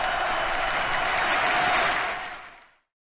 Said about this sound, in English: that massive cheering